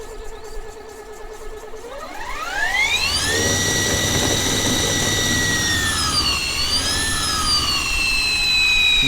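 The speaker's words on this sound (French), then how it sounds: "Voilà le bruit du moteur." A fully electric BMW scooter's motor whines up in pitch, then holds a loud, steady high electric tone with a rising-and-falling wobble, sounding close with no speech.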